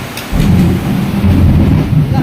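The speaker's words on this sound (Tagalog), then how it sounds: "May kasama pang kulog at kidlat." Deep rolling thunder rumbles loud and near through heavy rain, a sustained low roar that swells and churns for a couple of seconds.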